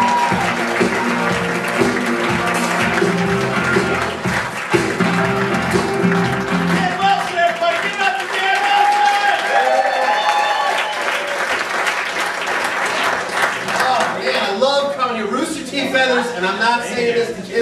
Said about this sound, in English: Give it up for Mr. Justin Worsham.